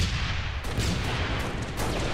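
A rocket explodes in a multiplayer shooter video game, giving dense, loud, rumbling booms with a couple of sharper bursts and no voices.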